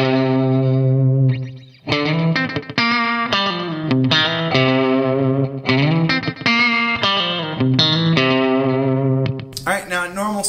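A distorted electric guitar plays a rock/country lick, a run of quick picked notes with some held tones and a brief pause near the start, loud and up front.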